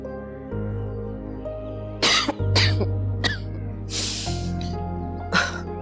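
A woman with a seasonal fever coughs in several sharp, harsh bursts, spaced apart and close by, over a low steady hum of background music.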